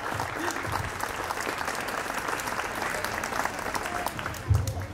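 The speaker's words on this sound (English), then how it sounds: "give them some applause" Crowd applause for dance school performers at a dance event; continuous, moderately distant clapping filling the whole stretch with a faint murmur of voices beneath it.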